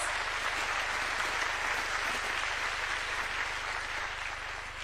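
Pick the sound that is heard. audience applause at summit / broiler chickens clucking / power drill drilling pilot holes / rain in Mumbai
audience applause at summit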